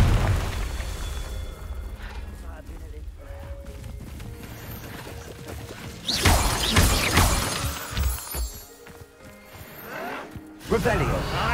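A Confringo blasting spell bursts in Hogwarts Legacy with a loud crackling boom and shattering debris, followed by a second rumbling blast near the end over steady game ambience.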